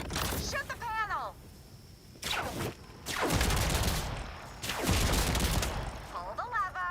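Gunfire from shooting a panel in Borderlands 4, with several short bursts of shots spread across the clip. Electronic game effects and a voice run underneath.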